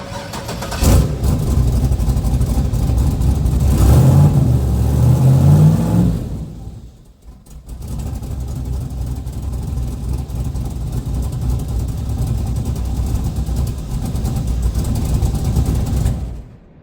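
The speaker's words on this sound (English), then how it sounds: "It's on first gear, so let's see." A car engine stuck in first gear because of a transmission fault revs hard and loud for about six seconds, then drops away briefly and settles into a steady, lower running idle that continues to the end.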